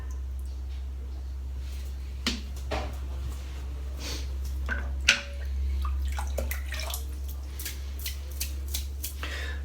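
A wet Wahl silver tip shaving brush is shaken and flicked to throw off water, giving a few sharp, scattered splashy snaps over a quiet background with a low steady hum.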